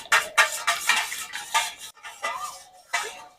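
A spoon stirs slaked lime into water in a metal bowl, with repeated close clinks and scrapes in a quick uneven rhythm and short pauses between strokes.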